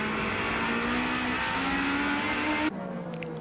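A 1992 touring race car at Wanneroo drones at sustained high revs, the engine note rising steadily before a sudden gear change drops the pitch, loud and close with broadcast commentary absent.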